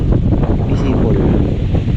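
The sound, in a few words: strong wind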